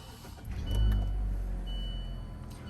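A 2021 Mazda CX-3 small crossover cranks to life with a short low surge that settles into a quiet, smooth idle, heard alone without speech.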